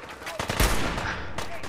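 Enemy gunfire in the video game Fallout 4 comes as a brief, sharp burst of automatic shots with a strong thump in the middle, loud and close.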